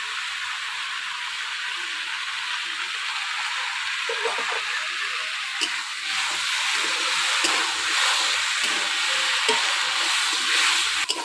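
Malabar spinach stems fry and are stirred in a wok with turmeric, cooking for a Bengali fish dish; a steady close sizzle and hiss runs throughout, with scraping stirs and clinks growing busier in the second half.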